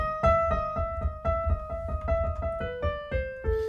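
A piano plays a steady run of single melody notes from Für Elise over a repeating low bass, clear and close with no voices.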